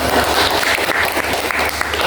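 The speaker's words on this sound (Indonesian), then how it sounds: "tepuk tangan dulu untuk pertanyaannya" A classroom of eighth-grade students applauds a classmate's question during a religious education lesson, a dense, steady patter of many hands clapping close by for about two seconds.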